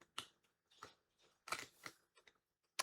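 A knife crunches through the bony jaw plate of a catfish, giving a series of sharp, close cracking snips spaced irregularly, quiet overall with no talking.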